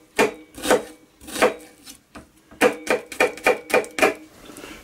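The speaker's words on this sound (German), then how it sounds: "Und dann einfach in feine Stückchen schneiden." A knife chops a halved onion into fine pieces on a cutting board, a series of crisp close knocks, a few spaced then a quicker regular run, with no talk.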